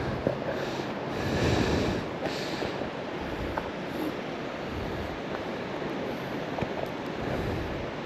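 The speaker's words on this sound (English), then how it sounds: "Like hearing it just roaring down there over all the rocks and stuff." A big creek roars over rocks below a forest bike trail, a steady broadband rush of water with light wind buffeting the microphone; constant and moderately loud, with no voices.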